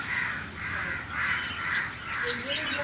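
A wounded little crow caws close by, giving a steady run of hoarse, repeated calls one after another.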